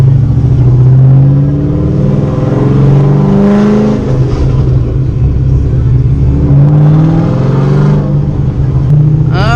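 A Corvette with a stage 3 cam revs hard while being driven, its loud, lumpy engine droning steadily throughout with rising and falling pulls of throttle.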